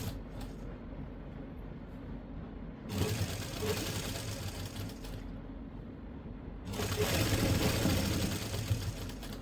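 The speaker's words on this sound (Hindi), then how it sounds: "यहाँ से हम सिलाई लगाना शुरू करेंगे।" Sewing machine stitching a coat collar, running in two steady mechanical bursts of rapid whirring and clatter with a short quieter pause between them, close and fairly loud, with no talking.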